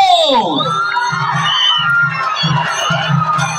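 A large crowd at a shopping mall opening in Rajahmundry cheers and shouts loudly, with excited children's voices rising over a continuous roar of applause and whoops.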